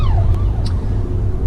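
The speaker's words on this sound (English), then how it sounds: "oh, I hear a siren." Emergency siren passing outside, a brief wailing sweep in the distance heard from near a car, over a low steady rumble.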